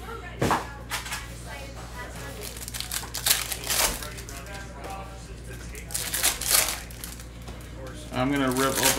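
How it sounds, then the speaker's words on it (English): Crinkling and tearing of plastic wrap as a Panini Donruss Optic basketball card box is ripped open, close and bursty, with cardboard handling in between. "I'm gonna rip open the whole box"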